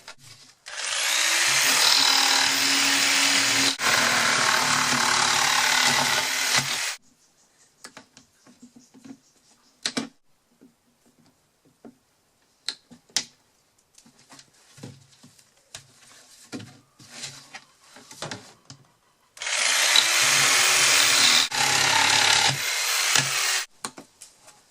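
A long stretch of loud, harsh grinding or cutting as plastic is stripped off the side of a 3-gallon laundry detergent bucket, then scattered clicks and handling noises, then another burst of grinding near the end.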